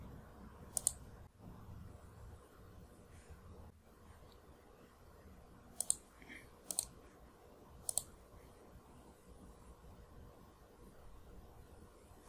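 Computer mouse clicks while printing a spreadsheet in Excel, several sharp, quiet clicks spaced apart over a faint room hum.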